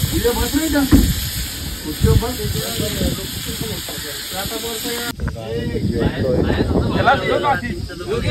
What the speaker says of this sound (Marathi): चिंबोरी फ्राय